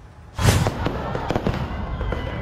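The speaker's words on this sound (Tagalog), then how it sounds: "Sa gitna naman ng fireworks display sa Oroqueta, Misamis Occidental, biglang lumipad ang mga paputok sa mga manunood." A fireworks display in Oroquieta, Misamis Occidental erupts with a loud burst, then a rapid, crackling run of bangs and pops close at hand, with no voices.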